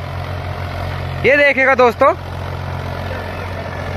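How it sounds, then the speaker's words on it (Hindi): A Mahindra 275 XP Plus tractor with M-lift runs with a steady, low engine drone throughout, while someone speaks briefly over it. "महिंद्रा 275 XP प्लस काम कर रहा है।"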